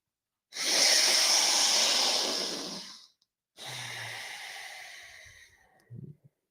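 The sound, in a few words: deep breathing exercise, inhaling and exhaling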